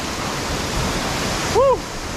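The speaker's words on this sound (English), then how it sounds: "But take a look at the waterfall here behind me." Waterfall in Samaipata, Bolivia, a loud steady broadband rush of falling water filling the whole clip, with a brief voice cry near the end.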